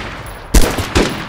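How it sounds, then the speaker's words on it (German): Two loud gunshots from the survival video game DayZ, a sharp blast followed by a second report about half a second later, with game ambience underneath and no talking. "Von wo sind die Schüsse alle?"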